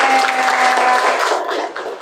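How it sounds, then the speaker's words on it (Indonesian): Students in a classroom during a career-planning lesson applaud for a classmate named Adel, a loud, close burst of many hands clapping together for about two seconds before trailing off. "tepuk tangan buat Adel"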